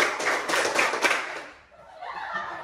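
Group hand clapping in a counted classroom clapping game, a quick run of sharp claps that stops abruptly, followed by quieter murmuring voices.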